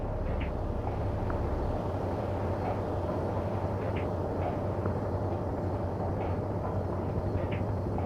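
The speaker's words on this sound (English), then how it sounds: "Let's see what happens when this enemy vehicle tries to speed past your infantry" Enemy vehicle in World in Conflict racing past an infantry squad, a steady low engine rumble with mechanical rattle and scattered faint clicks, continuous and fairly close throughout.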